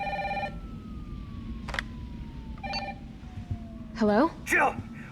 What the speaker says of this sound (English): We start by answering the phone that's ringing over here in Jill's apartment.